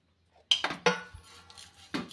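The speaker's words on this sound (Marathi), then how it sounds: "तर ही शेवई आता आपण थोडीशी हलकी अशी भाजून घेऊया।" Raw vermicelli being stirred in a pan for dry roasting, giving a few sharp metallic scrapes and clinks of a utensil against the pan, close and alone, separated by brief gaps.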